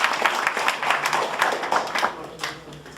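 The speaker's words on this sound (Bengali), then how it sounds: "আমরা চাই ওনাদের জন্য একটা হাততালি হোক" An audience claps for attendees at a Bangladesh Nationalist Party Canada branch gathering in Montreal marking the 7 November revolution and solidarity day. The clapping is a dense, steady patter of many hands that lasts the full three seconds.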